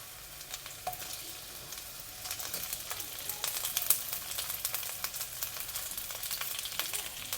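Thinly sliced ginger and red onion wedges sizzle and crackle in a hot wok as they are stir fried for clams, a steady, moderately quiet frying hiss with occasional sharper pops and stirring scrapes.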